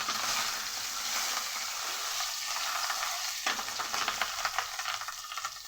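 Fish roe with turmeric frying in hot oil in a pan, a steady bright sizzle throughout with crackling spits and stirring scrapes growing busier toward the end, no voices.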